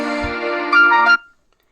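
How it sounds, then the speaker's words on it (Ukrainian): A mobile phone alarm set as a pill reminder sounds a bright electronic tone for just over a second, growing slightly louder near the end before cutting off into silence. No one speaks. "знову в мене телефон піщить, тому що треба пігулки пити"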